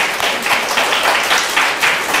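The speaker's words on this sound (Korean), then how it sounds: "한 해 동안 공부하며 애썼던 우리 중고등부 지체들에게 박수로 격려하며 축복하고 칭찬합니다" Church congregation applauding at a Sunday worship service in a Singapore Full Gospel church, a steady wash of many hands clapping close and loud, continuous without talk.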